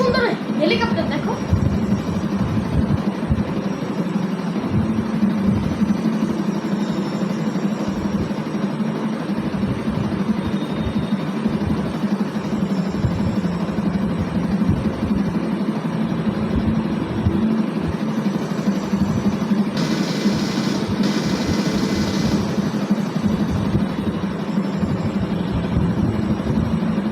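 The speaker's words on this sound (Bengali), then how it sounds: "কত সুন্দর হেলিকপ্টার দেখো" Continuous engine drone of a helicopter in a video game, steady and fairly loud throughout with a brief brighter burst near the end, while a person talks over it.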